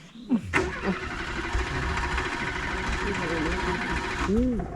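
A car engine cranks and labours to start on a weak battery, grinding steadily for several seconds, loud and close, while a voice speaks over it.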